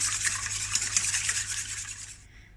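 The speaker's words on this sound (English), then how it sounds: "what I'm gonna do is I'm gonna whisk all these together" Eggs and egg yolks are whisked together in a bowl, making a steady, brisk scraping and rubbing sound that runs unbroken for a couple of seconds, then stops.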